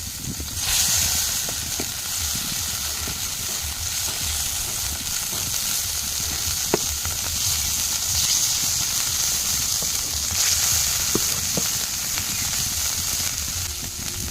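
Fried catla fish pieces go into hot simmering oil and spices in a home kitchen, giving a steady close sizzle and hiss with a few soft taps of a utensil against the pan.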